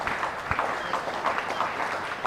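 Spectators at a Kent vs. Hampshire cricket match applaud Kent's fielders and bowlers as they leave the field, a steady patter of scattered clapping from a modest crowd heard at a distance, with a faint voice underneath.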